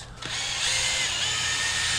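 A power drill fitted with a headlight polishing pad starts with a click and spins up into a steady, close whine that holds level with no talking.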